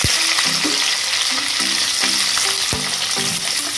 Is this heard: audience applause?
no